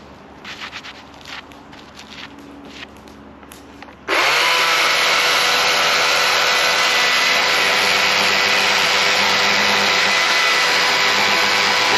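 A battery-powered Husqvarna chainsaw cuts into wood left drying for decades: after a few seconds of quiet handling noise, the motor kicks in abruptly and whines loud and steady to the end.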